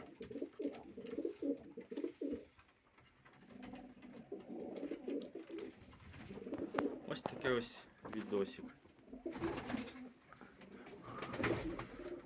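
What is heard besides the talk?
pigeons cooing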